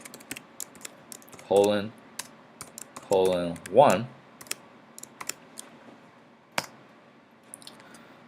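A computer keyboard is typed on in short sparse clicks while a command is entered, close and faint, with someone speaking briefly between keystrokes.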